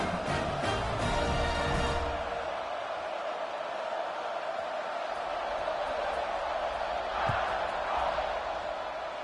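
Large football stadium crowd roaring before a kickoff, a loud sustained wash of cheering and noise that stays steady throughout with no clear breaks.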